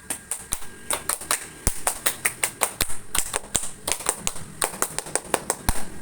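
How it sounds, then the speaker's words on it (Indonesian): Scout troop members perform a rhythmic group clap pattern, a tepuk pramuka, with sharp claps in quick syncopated bursts and short pauses, close and fairly loud in a room. "Tepuk pramuka."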